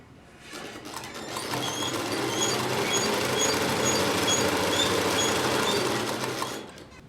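A sewing machine runs a straight stitch through fabric in a steady mechanical whir with rapid rhythmic ticking. It speeds up, holds a continuous run for several seconds, then winds down.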